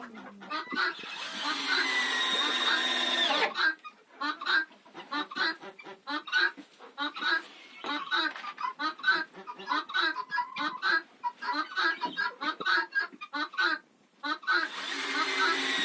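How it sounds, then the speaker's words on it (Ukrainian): Laying hens cluck and chatter close by in short, busy bursts at new nesting boxes, with a few sustained squawks at the start and end and brief pauses between. "Ось одна курочка вже зайшла, вже оцінює гніздечко."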